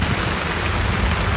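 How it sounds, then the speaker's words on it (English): Steady rain falling at Leeds Festival, a dense continuous hiss of drops on a surface, close and even throughout with no voices. "It's raining."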